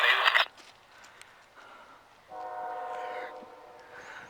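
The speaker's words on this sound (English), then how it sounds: "Locomotive BNSF 6285, clear on the CITIRAIL connection, main track southbound." A BNSF locomotive, unit 6285, passes on the main track heading southbound, with its horn giving a sustained multi-tone blast partway through. A loud rumble of the passing train comes first, then a quieter stretch before the horn sounds.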